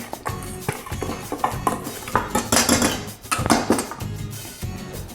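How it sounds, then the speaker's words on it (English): Baking powder, salt and sugar stirred together in a bowl for a vegan baked apple pancake, a utensil clinking and scraping in a rapid, uneven rhythm against the bowl, close and fairly loud, with no talking. "add all of my dry ingredients. That is the baking powder, salt, and sugar. And just combine this well."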